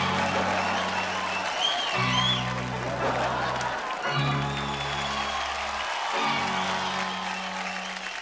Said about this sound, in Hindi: आइए जोरदार तालियां जया जी के लिए और शिल्पा जी के लिए